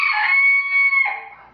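A loud rooster crow rings out close by, a long drawn cry that breaks and trails off at the end.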